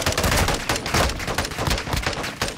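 Rapid, loud bursts of gunfire from a weapon in a first-person shooter video game, sustained almost without pause as a dense, crackling volley.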